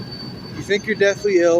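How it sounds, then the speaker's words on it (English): A train passes nearby, a low rumble with a thin steady squeal carrying underneath as a person talks over it. "I'm sorry about the train."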